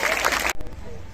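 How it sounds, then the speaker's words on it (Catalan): A short burst of applause at a space-themed children's poetry recital, dense clapping for about half a second before it cuts off abruptly, leaving quiet room tone. "Un aplaudiment."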